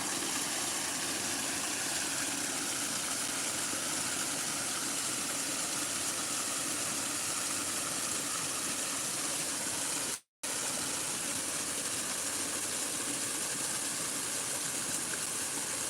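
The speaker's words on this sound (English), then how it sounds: "The sound of running water from the temple above." Steady rushing of running water from a temple at Kurama, Kyoto, a continuous broadband wash with no voices, briefly cut by a momentary dropout.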